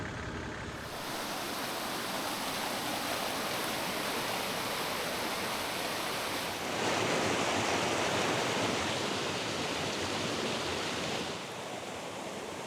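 Catherine Falls, a waterfall, pours in a dense, continuous broadband rush that swells louder midway, steady and enveloping with no voices.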